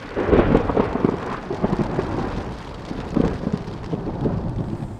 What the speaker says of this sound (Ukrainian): Ну який веселий дощик.